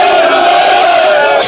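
Recruitment candidates from the states of the Federation and the FCT cheer and shout together before their final mandatory physical test, a brief, loud, sustained crowd roar.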